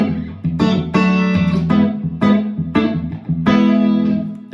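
Electric guitar played through an amp, a series of ringing strummed chords with sharp attacks and sustained decays, loud and close with no talk.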